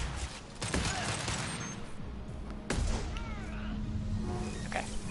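Gunfire in Mass Effect 2 crackles in bursts of sharp shots against a dense battle din, with a couple of heavier impacts, while a person talks.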